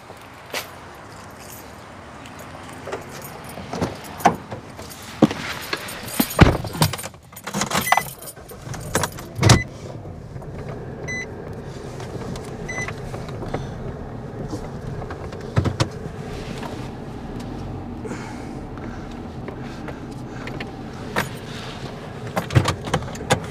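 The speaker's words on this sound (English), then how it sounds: "First things first, I gotta get the truck out of the way." A truck is started and moved: keys jangle and a door thumps, followed by the low, steady run of the vehicle with occasional clunks and rattles nearby.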